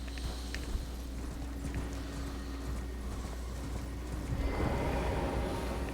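Horse hooves galloping in the video game Elden Ring, a steady rapid clip-clop running continuously over a background game ambience, growing slightly louder and busier toward the end.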